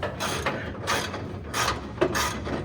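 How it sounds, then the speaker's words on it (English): A ratchet wrench loosening a bolt during a lift install on an old Chevy gasser, giving repeated close clicking pulls in a steady rhythm of about four strokes. "now you're gonna have to ratchet that out"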